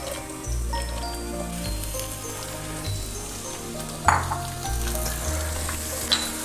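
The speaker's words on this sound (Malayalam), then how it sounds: "നമുക്കിതിലേക്ക് സവാള ഇട്ട് കൊടുക്കാം" Sliced onions sizzle steadily in a hot pan for a chicken curry, a close, continuous frying hiss with a couple of stirring knocks.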